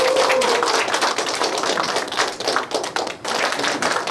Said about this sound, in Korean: 한기원 교수님을 큰 박수로 모시겠습니다